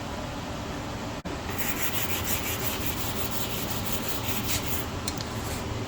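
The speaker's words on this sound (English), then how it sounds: "we need to use sandpaper to sand all the rust surface in order to get hardness measurement" Sandpaper rubs rust off a carbon steel surface in a continuous close scratchy hiss, with rapid back-and-forth strokes after a brief pause near the start.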